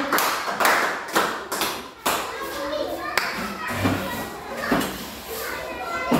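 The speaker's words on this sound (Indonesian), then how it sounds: "Tepuk tangan untuk kelompok 4." A classroom of children clapping for a small group, several bursts of sharp rhythmic claps mixed with children's voices and chatter, close and lively in a room.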